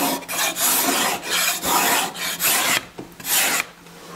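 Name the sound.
cabinet scraper scraping a wooden table leg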